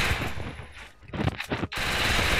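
Rapid automatic gunfire from the mobile shooter Free Fire, loud bursts of shots crackling dense and continuous, broken by a brief gap of separate punchy shots midway before the full-auto stream resumes.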